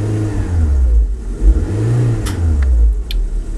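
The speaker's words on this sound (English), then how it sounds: "I just blip the throttle" The 1.4 LPG engine of a 2008 Citroen Berlingo van is blipped and revs up and down, a loud, close, low-pitched engine roar that swells and falls back to idle.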